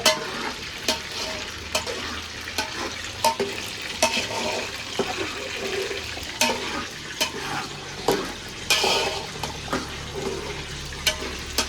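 Chicken and biryani cooking on the stove, with repeated scraping stirs of a ladle in the pot at an irregular rhythm over a steady frying sizzle, close and moderately loud.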